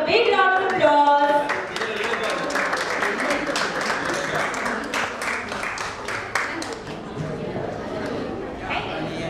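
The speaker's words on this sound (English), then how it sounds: "Parents, please give them a big round of applause." Parents at a preschool sports and annual day clap together in a sustained, lively round of applause, loud and continuous, with crowd chatter and an announcer's voice mixed in.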